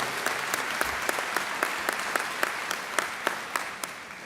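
A crowd at an opening day event for public school teachers and staff applauds, sharp individual claps standing out over a soft, steady patter that fades slightly toward the end, fairly quiet and with no voices.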